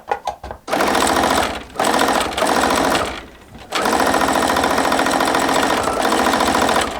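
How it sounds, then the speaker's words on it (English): A sewing machine stitches quilt patchwork pieces in loud, rapid mechanical runs, pausing briefly between bursts and then running steadily for several seconds, close and alone. "we are sewing at an angle like so"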